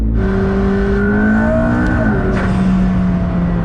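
A McLaren's engine revs loud and close, pitch climbing and dipping in sustained pulls with a whirring mechanical overtone, no talking over it.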